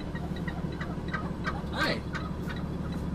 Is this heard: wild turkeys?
yes